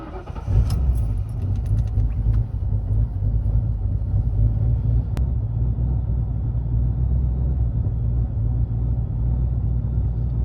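A supercharged Ford Crown Victoria with a 5-speed fires up after a brief crank and settles into a steady, loud, deep idle rumble heard from close by, with a jangle of keys at the start.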